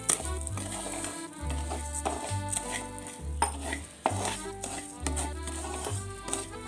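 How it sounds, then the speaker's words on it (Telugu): Coarse wheat rava roasting in ghee in a pan, with a spoon stirring and scraping against the metal in steady strokes over a soft sizzle, close up and without talk. "ఈ నెయ్యిలోనే వేసుకొని చక్కగా మంచి స్మెల్ వచ్చే వరకు వేయించుకుందాం"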